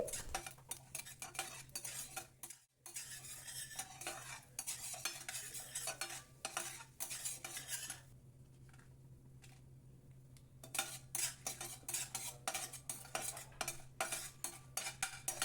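Mustard seeds, cumin, chana dal, urad dal and dried red chillies tempering in a small pan, stirred with a ladle: steady metal scraping and clinking with soft frying crackle throughout, pausing briefly midway.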